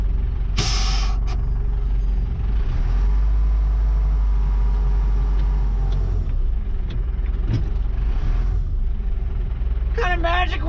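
Air parking brake on a GMC C8500 dump truck releasing, a sharp loud hiss of air over a heavy idling diesel rumble, with voices talking nearby and another short air burst near the end.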